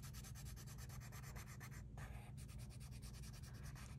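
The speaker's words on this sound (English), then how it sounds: "put down a layer of this green pencil" A green colored pencil shades a layer onto paper, giving a steady, close, continuous scratchy rubbing with rhythmic back-and-forth strokes and a brief pause midway.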